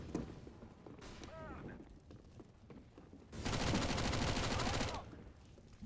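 Gunfire rattles through a video game match: scattered shots and a sweeping whistle-like effect, then a dense, loud burst of rapid automatic fire lasting nearly two seconds before it cuts off, with players' voices faintly in the mix.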